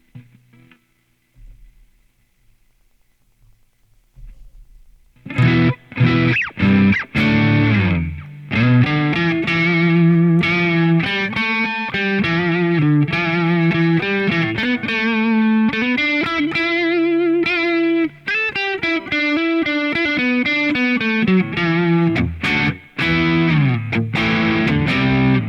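Electric guitar through a Boss Katana MK2 amp modeling a Fender Bassman, warm and slightly overdriven, chords and riffs ringing continuously after a quiet start.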